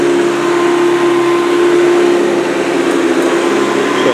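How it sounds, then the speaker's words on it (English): A Hoover Convertible upright vacuum cleaner with its beater bar grooming carpet gives a steady, even drone with a constant motor hum and whir, close and loud, running without pause. "Hear the nice beater bar grooming the carpet very nicely there."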